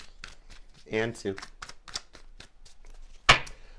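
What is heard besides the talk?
tarot cards being shuffled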